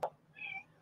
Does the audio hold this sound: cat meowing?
yes